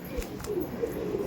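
A Star Kalanka pigeon coos softly in a loft, a low, close murmur with no voices over it.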